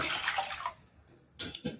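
Water pours briefly into a pan on a gas stove with a soft gushing splash, goes quiet for a moment, then gives a couple more short splashes.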